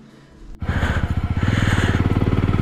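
A motorcycle starts up after a quiet moment and then idles and pulses on a mountain ride from Dalhousie to Dharamshala, the near, loud engine throbbing in a rapid, steady rhythm.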